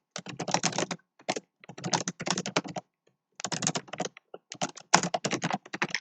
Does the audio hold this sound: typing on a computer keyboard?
yes